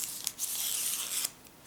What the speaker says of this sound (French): Ensuite, mes ciseaux. Voilà. Et on coupe en biais.